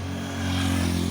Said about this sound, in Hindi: इंजन के आरपीएम को आप सुन पा रहे होंगे।